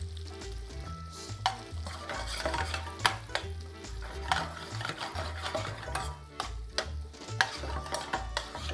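Pork fat rendering for rigatoni all'amatriciana, sizzling steadily in a pan while a utensil stirs and scrapes with frequent clicks and taps, close up and with no talking.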